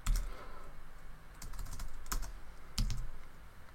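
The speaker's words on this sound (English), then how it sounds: "Not used to using this keyboard." Clusters of quick clicks from a computer keyboard being typed on, in short irregular bursts with a few heavier thumps, close and fairly quiet.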